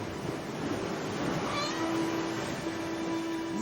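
A pet cat named Pandora gives a drawn-out meow partway through, rising and then trailing off over steady room noise, with a short extra cry near the end.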